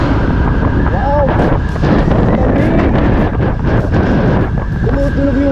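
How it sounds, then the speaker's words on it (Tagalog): Strong wind roars across the microphone during a drive toward the hospital in Calaca, a loud, continuous buffeting rumble with gusty bursts and faint tonal whistles riding on top, filling the whole stretch. "Tumutunog yung hangin!"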